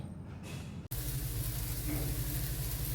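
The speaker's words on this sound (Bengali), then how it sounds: "আমি ফ্রাই প্যানে তেল গরম করে বড়াগুলোকে শ্যালো ফ্রাই করে নিচ্ছি।" Banana flower dhoka pieces shallow frying in hot oil in a frying pan, a steady close sizzle that jumps louder after a brief break and keeps crackling evenly.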